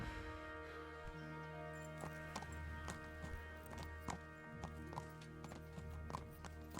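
Rhythmic clip-clop of horse hooves in the medieval video game Kingdom Come: Deliverance, a steady walking gait of close taps over a sustained musical score, with no clear neigh standing out.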